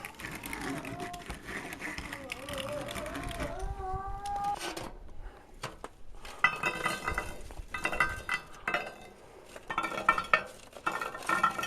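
Yellow layer cake batter being beaten in a bowl, with the steady clink and scrape of a utensil against the bowl, close by, and a voice talking over the first part.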